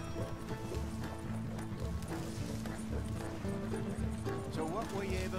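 Galloping horse hooves clatter steadily and continuously in Red Dead Redemption 2, mixed with voices talking and a busy background of other sounds.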